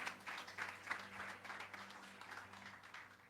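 A church congregation at a youth festival service claps steadily to welcome a preacher, a dense wash of hands sustained throughout, moderately distant and not especially loud, with a low hum underneath.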